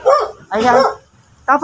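A dog in a home garden gives a few short, sharp barks in separate bursts, close and fairly loud, with a person talking between them.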